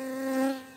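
Honeybees hum at a beehive, a steady close buzz that swells briefly and then eases off.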